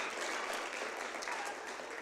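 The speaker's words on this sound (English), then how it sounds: "Let's give them all a round of applause," Congregation applauding the musicians at a Unitarian Universalist worship service, a steady wash of clapping held at an even level throughout, fairly quiet and diffuse as if heard across the room.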